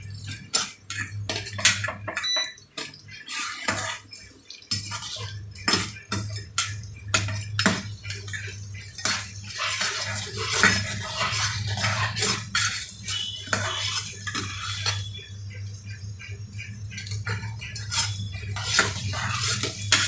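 Stirring and frying in ghee in a pan, with repeated sharp scrapes and clinks of a utensil against the metal pan in an irregular rhythm, close and moderately loud, no talking.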